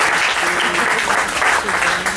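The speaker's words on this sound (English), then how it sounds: "you can applaud Marco" Audience applause at an advertising festival event, steady dense clapping filling the whole span at close range with some faint voices mixed in.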